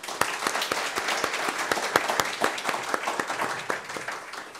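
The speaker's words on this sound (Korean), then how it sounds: "모두 박수로 환영해 주시기 바랍니다." An audience at a Korean forum on denuclearization and peace on the Korean Peninsula claps to welcome a speaker, with distinct individual claps standing out over a fairly quiet, steady patter that continues without talk.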